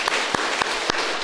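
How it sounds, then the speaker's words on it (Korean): A church congregation applauding during a Sunday service, a soft continuous patter of clapping with a few sharper, louder claps standing out at intervals. "박수하겠습니다."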